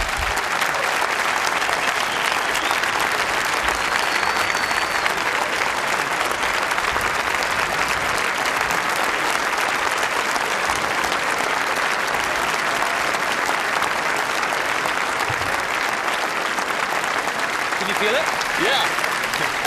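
An audience at a TED talk breaks into sustained, loud applause, a dense steady clatter of many hands filling the hall from start to finish.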